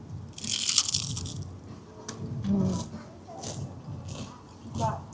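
Someone bites into a crunchy breaded onion gluten-free snack at Disney World, giving a few short crunching bites close to the mic, mixed with brief talk and background chatter.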